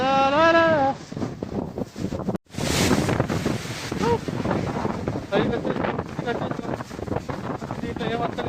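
Gusty wind buffets near Gundala Waterfalls, rumbling in uneven surges, with a voice heard at the start and a brief dropout partway through before the blustery noise returns.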